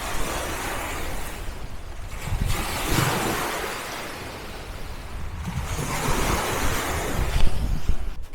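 Lake waves washing onto a rocky Mackinac Island shore, steady surf with swells rising and breaking every few seconds, wind buffeting the microphone, no talking.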